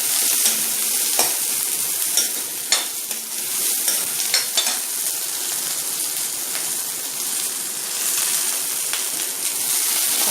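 Mixed vegetables for sambar, including drumstick, carrot and raw mango, sauté steadily in a pot with a continuous sizzle and occasional stirring scrapes, close and alone.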